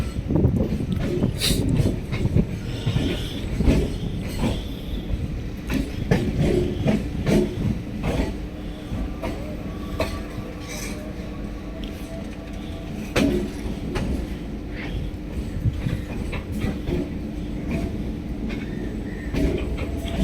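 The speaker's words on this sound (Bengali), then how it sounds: "চোদ্দ নম্বর রেল ক্রসিং পেরিয়ে চলে যাচ্ছে ট্রেন" Train rolling past a railway level crossing after leaving Budge Budge station, heard from the carriage door: continuous rumble with rhythmic clickety-clack of wheels over rail joints and sharp metallic clanks throughout, loud and close.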